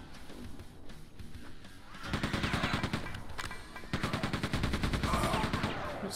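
Enemy gunfire in the video game Quake II, a level in a refinery, sustained rapid machine-gun style bursts that grow louder after a quieter start, dense and continuous.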